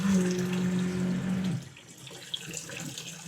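Fresh water gushes steadily through a sailboat's plumbing for a moment over a low hum, then drops to a quieter trickle with faint clinks.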